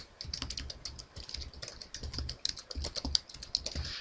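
Fingers type a password on a computer keyboard for an encryption setup, a quick run of close, crisp key clicks in an uneven rhythm, fairly quiet and without talk.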